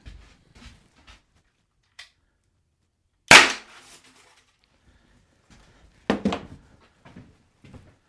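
A Byrna LE launcher fires a projectile during a penetration test against a backboard, giving one loud sharp pop, then a second impact-like crack a few seconds later, amid faint handling clicks and no speech.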